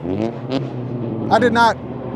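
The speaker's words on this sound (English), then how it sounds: "I got this loud tuner car passing by, you know, pumping his gas and revving up stuff" A loud tuner car passes close by, its revving engine swelling in a couple of sharp bursts over steady low rumble and background music.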